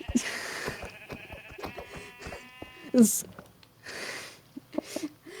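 A Minecraft sheep bleats a few times amid buzzing game sounds, with a person talking over it throughout.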